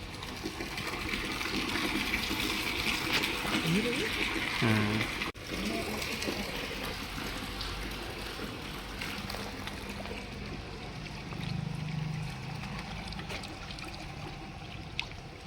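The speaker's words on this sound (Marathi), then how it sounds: "असंच पाणी सगळं जातं आपलं" Water from a well flows through a garden with a steady, faint rushing wash that continues throughout, with brief muffled voices partway through.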